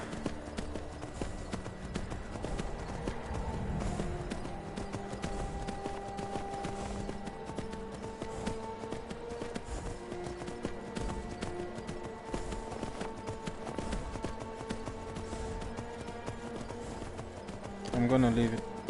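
Steady clip-clopping hooves of a horse in Skyrim VR, with busy game music and effects, and a voice talking over it; a brief louder burst near the end.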